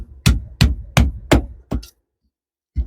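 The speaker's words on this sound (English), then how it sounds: "I'm going to batten through some of this oak" Five loud, evenly spaced thuds of a knife being batoned through oak wood, each a sharp close strike, followed by a pause and one more hit.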